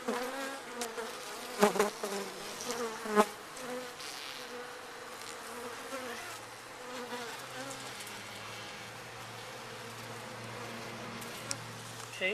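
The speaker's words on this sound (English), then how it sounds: "Here I am at my hive. You can see all the bees feeding." Honeybees buzzing around a backyard hive after feeding, a dense continuous drone with individual bees swelling past close by, a few brief louder passes early on, steady and fairly quiet overall.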